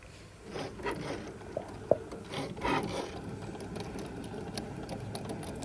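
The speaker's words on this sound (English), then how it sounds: "There goes the machine cutting out our design." A Cricut cutting machine cutting out a Christmas stocking design, whirring and ratcheting mechanically with a sharp click partway through, close and steady with no talk.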